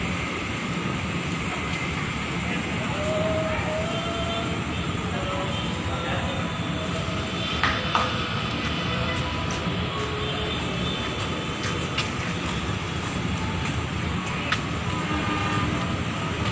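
The Serayu passenger train departs near Bogor station, a steady distant rumble of rolling rail cars with faint clicks and squeals over a continuous low drone.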